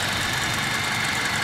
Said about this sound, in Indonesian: Di sini mesin dalam keadaan menyala dengan suara mesin normal.